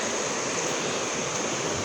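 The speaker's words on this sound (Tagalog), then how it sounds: "tignan nyo ang ilog natin" River water flowing through a forest where locals fish, a steady, dense rushing wash that stays even throughout, heard alone without voices.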